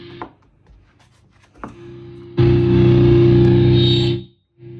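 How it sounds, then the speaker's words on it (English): An electric guitar played through a Behringer V-Tone amp modeling a Mesa combo: a couple of short muted picks, then a loud, thick distorted chord rings out for about two seconds before being cut off. "that's the Mesa sound coming out of the Behringer V-Tone"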